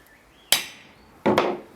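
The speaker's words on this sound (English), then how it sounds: "Then use a centre punch" Two sharp, close metallic strikes of a hammer on a centre punch set on a galvanised boat-catch mounting arm, the second following about three quarters of a second after the first, each ringing briefly.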